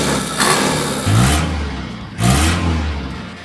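A Tata Estate station wagon's 1.9 liter diesel engine revs three times in quick succession, each blip rising and falling back to a rough idle, close and loud with no voices.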